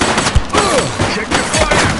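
Gunfire in the video game The Precinct, a loud, dense, close burst of rapid shots and clattering impacts lasting a couple of seconds with no pause.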